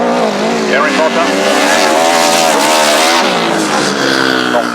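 Grasstrack race motorcycles roar past in a loud, sustained whine of revving engines with rising and falling pitch, while an announcer talks over the racing.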